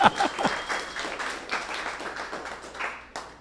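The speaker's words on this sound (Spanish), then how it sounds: "un aplauso para el Señor que nos hizo santos" A church congregation applauding during a Spanish-language sermon service, a dense wash of many hands clapping that ebbs and swells briefly before fading out.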